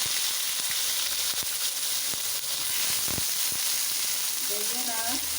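Potatoes and eggplant hiss and sizzle in hot oil for a fish curry, a steady broadband frying crackle with scattered pops and stirring clatter, close and continuous throughout.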